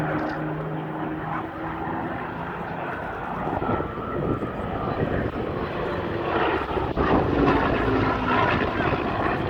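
Hawker Hurricane fighter with a piston engine flying at an air show, a steady droning engine roar that swells slightly in the second half, loud and constant, with a commentator's voice partly underneath.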